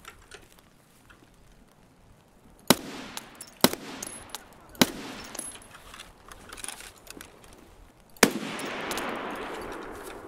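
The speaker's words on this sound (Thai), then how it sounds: "เสียงปืนค่อนข้างดังเป็นเสียงของใคร" Gunfire in the video game Escape from Tarkov: sharp, loud shots cracking out one at a time at irregular intervals, with a final heavy blast and a noisy rumbling tail, all without speech.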